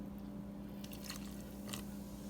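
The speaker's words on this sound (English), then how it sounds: "This box cake calls for a cup of water, so I'm using a cup of the Seagram's." A cup of bubbly Seagram's soda pours into box cake mix in place of water, giving a soft, fizzy, wet trickle with a few brief splashy bursts over a steady background hum.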